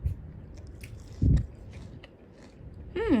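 Someone eats a mango dessert, with soft chewing and biting sounds close to the mic. There is one louder crunchy bite midway and a brief squeak near the end.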